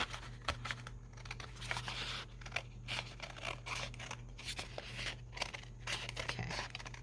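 Scissors snip through a strip of scrap fabric for sewing, a run of quiet, close crisp cuts and rustles with faint cloth crinkling between them, alone with no talk.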